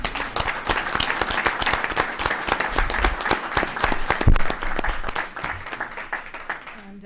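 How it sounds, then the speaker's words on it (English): Sustained applause from a room of attendees at a committee meeting, dense overlapping clapping holding steady for several seconds before thinning slightly at the end. "I think we should just give them a round of applause"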